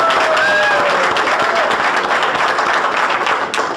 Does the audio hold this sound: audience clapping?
yes